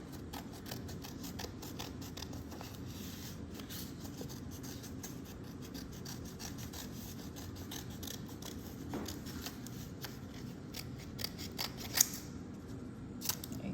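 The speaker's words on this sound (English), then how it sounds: "Now take your scissors" Scissors snip through paper along drawn lines in a steady stream of quick, close, crisp cuts, soft and continuous with a few sharper clicks near the end, no voices.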